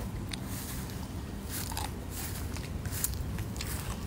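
Crunchy organic eggplant bitten and chewed up close, a steady dense crackling crunch that runs the whole time with sharper bites breaking through, no one talking.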